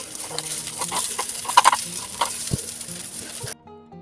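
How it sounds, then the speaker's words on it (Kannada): Masala paddu fry in oil in a paddu pan as they are turned over, a soft steady sizzle with light scraping and tapping clicks, ending abruptly. "ಇಲ್ಲಿ ಮೂರು ನಿಮಿಷ ನಾನು ಚೆನ್ನಾಗಿ ಬೇಯಿಸ್ಕೊಂಡಿದ್ದೀನಿ ಇವಾಗ ತಿರುಗಿಸ್ಕೊಳ್ತಾ ಇದ್ದೀನಿ"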